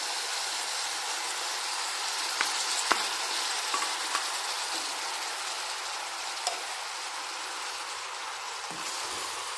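Chopped tomato tipped into a hot frying pan, giving a steady loud sizzle with occasional pops and crackles throughout.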